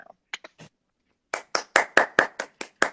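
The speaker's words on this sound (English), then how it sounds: "That deserves a hand clap now." Hands clapping during a dance artist talk: a few scattered claps, a short pause, then a run of about eight crisp, evenly spaced claps, close and clear with no talking.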